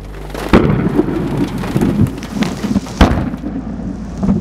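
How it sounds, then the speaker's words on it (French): A thunderstorm in the American storm-chasing plains with steady heavy rain and sharp, ground-shaking cracks of thunder, two loud bursts standing out over a continuous rumbling wash. "sentir le sol vibrer après un coup de tonnerre absolument fracassant"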